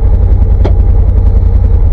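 A vehicle engine idles in extreme cold after sitting unused for days, giving a loud, steady low rumble close by with one brief higher clunk partway through.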